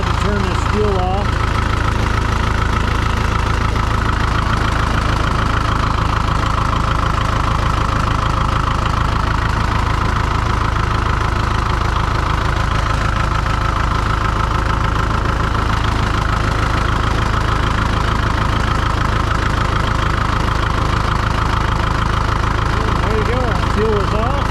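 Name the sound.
Farmall MD tractor engine running after startup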